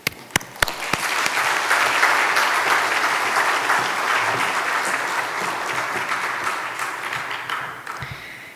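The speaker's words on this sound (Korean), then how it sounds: "나오실 때도 역시 여린 마음과 박수로서 맞이하겠습니다." Church congregation applauding a deacon as she comes forward at a Friday prayer service, steady sustained clapping from a sizable crowd throughout, with a few sharp claps at the start and fading slightly at the end.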